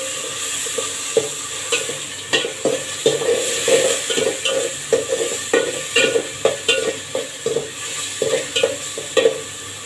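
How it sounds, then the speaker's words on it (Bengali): Dal (lentils) comes to a boil in a pot on the stove, bubbling and popping in quick, uneven bursts over a steady sizzling hiss, close by and without talking. "এখানে ডাল বলক এসে পড়ছে, ডালটা কমায় নিব।"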